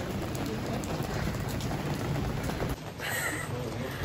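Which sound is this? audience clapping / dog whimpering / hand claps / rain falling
rain falling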